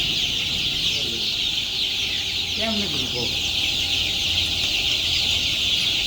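Chickens on a poultry farm cluck close by in a short burst of clucks, under a constant loud fan-like hiss, while someone speaks briefly.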